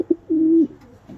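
A pigeon sitting on eggs in a loft gives a close, soft coo: two short low notes and then one longer drawn-out note, with a faint murmur trailing after.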